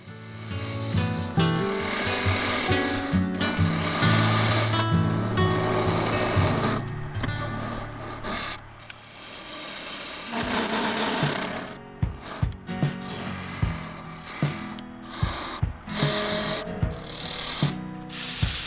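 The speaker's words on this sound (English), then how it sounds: "I used a 1/4" parting tool and the skew to clean up the recess, cut the dovetail, and add some decoration." A parting tool and skew cut into a spinning wooden honey pot on a lathe, giving close, steady scraping and rasping hiss with tonal ringing, then a run of sharp tapping clicks near the end.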